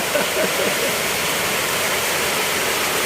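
Floodwater from a rain-clogged street drain rushes steadily into a house, a loud continuous gushing and splashing like a small waterfall, close by, with no talk over it.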